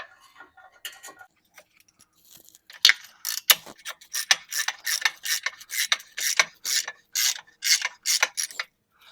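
Ratchet wrench tightening exhaust bolts while fitting a Roush exhaust: a few sparse clicks, then a steady run of sharp, close ratcheting strokes in quick rhythmic bursts, with no voices.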